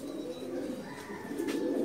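A pigeon at a pigeon loft in a Dhaka pigeon market coos softly, a low throaty warble repeating over faint background noise.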